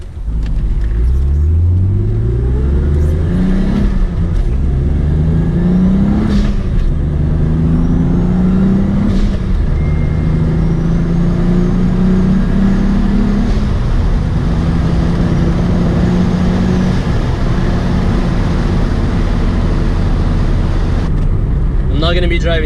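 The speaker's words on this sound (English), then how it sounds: "car sounds absolutely phenomenal. I just love the blowout valve and the turbo spool" A turbocharged BMW E36 M3 with about 500 wheel horsepower revs repeatedly, its engine note rising and falling in several surges over a steady low rumble, with faint hiss between pulls that may be the turbo spool and blow-off valve.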